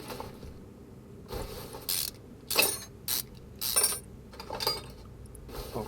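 A rusty starter is pulled from a car engine in Car Mechanic Simulator 2021, a series of short ratcheting and metallic clicking bursts separated by brief quiet gaps, fairly close and moderately loud.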